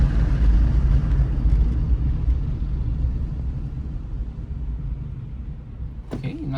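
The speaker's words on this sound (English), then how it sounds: "So we already went over 30 miles an hour and we're braking." A 2007 Toyota Corolla with new brake rotors and pads brakes from about 30 mph. Loud low road and engine rumble fades steadily as the car slows, and a voice briefly enters at the end.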